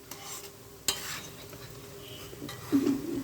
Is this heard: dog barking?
no